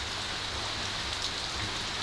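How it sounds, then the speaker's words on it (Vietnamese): Heavy rain pours steadily and loudly in a continuous dense hiss, with drops drumming on a surface throughout and no voices. "Trời mưa to quá rồi."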